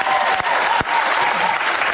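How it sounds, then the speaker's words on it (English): A studio audience applauds steadily, a dense wash of many hands clapping close and loud for the full stretch, with no one speaking over it. "Begging for applause."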